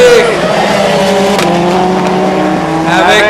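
Rallycross race cars roar along the straight as one overtakes another at a 2022 Kerlabo event, with loud sustained engine howl and shifting pitch under excited commentary.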